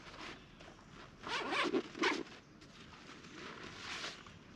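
Zippers on a military-style tent carry bag are pulled open, one of two zippers: a few quick, close, rasping zips in the middle, with faint handling rustle around them and no talking.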